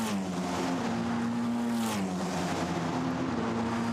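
Formula Renault Eurocup race cars at Monza roar past in a continuous loud engine drone whose pitch shifts as the cars sweep by.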